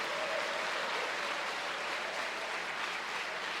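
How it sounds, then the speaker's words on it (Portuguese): A church congregation bursts into steady, even applause, a dense wash of many hands clapping without pause for several seconds. "Dá uma salva de palmas para o Senhor."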